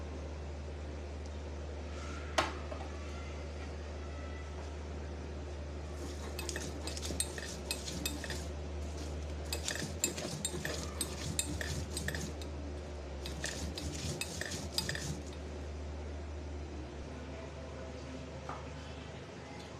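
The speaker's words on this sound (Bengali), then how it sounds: "ভেজে রাখা আদা রসুন আর মরিচ গুলো বেটে নেব" Fried ginger, garlic and green chilies are ground into a paste, with bursts of rough scraping and grinding strokes in several rhythmic spells against a quiet hum, fairly close.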